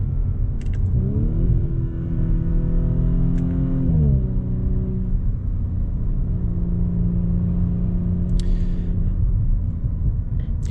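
A 2022 Audi S4 in dynamic drive mode, heard from inside the cabin: a steady engine rumble rises through a rev, dips at a gear change, then settles into a smooth cruising drone, with faint clicks and no talking.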